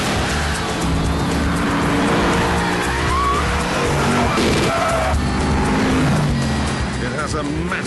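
A Lexus IS F with a 5-litre V8 roars hard under load, tyres squealing as it is driven fast, with loud continuous engine noise throughout.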